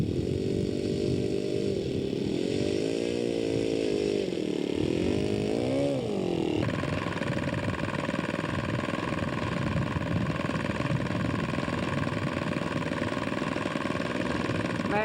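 A scale model aircraft engine, reported as overheating while the plane comes in to land, buzzes continuously at a nasal high pitch, wavering and dropping as the aircraft maneuvers, then settling into a steadier drone.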